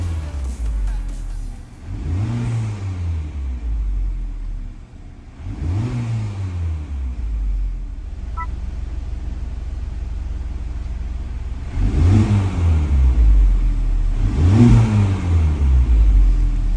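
A Honda Civic Type R FL5 with a full 3-inch titanium exhaust and deleted center muffler revs repeatedly, four sharp rising-and-falling throttle blips over a deep idle rumble, close and loud, no talking.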